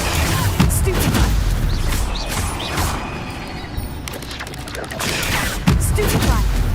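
Spell-casting effects in a Harry Potter video game, a busy run of crashes, thumps and magical bursts layered over battle noise, with a sharp impact near the start and another near the end.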